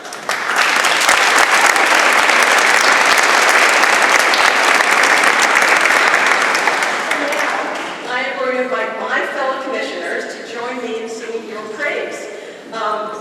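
A room full of people at an awards ceremony for women applauds loudly and steadily for several seconds. The applause fades, and a voice begins speaking over the last scattered claps.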